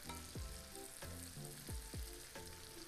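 Red potatoes crisp in butter in a pan, a faint steady sizzle broken by a few soft, swooping scrapes as they are moved around, heard close with no talking.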